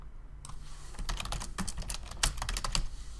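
Keys clatter on a computer keyboard in a quick, irregular burst of close, crisp clicks in a quiet room, with no voices.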